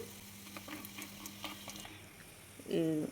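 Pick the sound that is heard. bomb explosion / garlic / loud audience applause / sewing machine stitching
garlic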